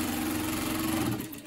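A Luoke LK D1 industrial sewing machine runs steadily, stitching cloth with a continuous motor hum and needle whir that holds level, then eases slightly near the end.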